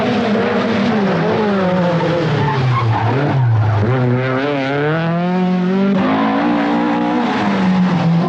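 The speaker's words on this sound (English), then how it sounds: "Young Finnish star Henri Toivonen in the second Rothmans Opel Ascona soon takes the lead from Vatanen." Rothmans Opel Ascona rally car at the 1982 Manx Rally, its engine loud and close, rising and falling through gear changes as it races past.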